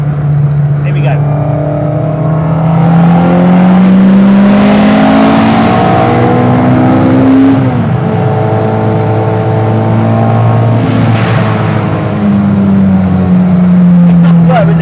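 A recreated Ford Escort Mk1 rally car engine revs and pulls hard in third gear, pitch climbing steadily, dipping at a shift, then climbing again, loud and close, with a voice speaking over it.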